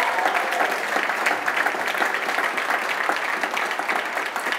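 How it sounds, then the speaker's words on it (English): A large crowd applauds sponsors at a Black community gathering with continuous, dense clapping that stays loud and even throughout. "let's give a loudest round of applause for all of the sponsors here today"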